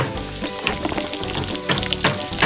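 Sugarcane pieces laid in a hot frying pan with pork humba sizzle loudly and continuously up close, with irregular bursts of crackling spatter and scraping.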